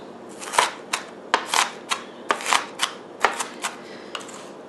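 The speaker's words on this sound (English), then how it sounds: "I'm doing an up and down motion with the back of the blade. And I'm just going across the onions" A knife chops a big pile of onions with a rocking up-and-down motion on a cutting board, about a dozen crisp, irregularly spaced knocks, close and clear with no talking.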